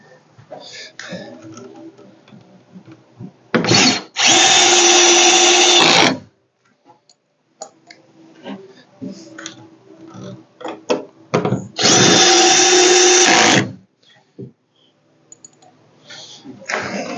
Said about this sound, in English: Really helps if you have a magnetized screwdriver tip on your drill.